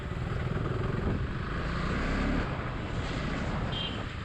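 A motorcycle rides along a road, its engine droning steadily up close with continuous rushing wind and road noise and slight swells in level.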